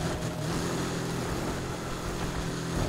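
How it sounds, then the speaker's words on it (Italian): Car engine roaring in the racing game Need for Speed Heat, a steady droning hum that holds at a moderate level throughout without breaks or speech. "Senti il sound del motore"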